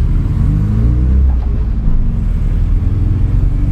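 A square-body Volkswagen Gol's engine revs loudly nearby, a deep, steady drone that holds its pitch throughout, with no other sounds.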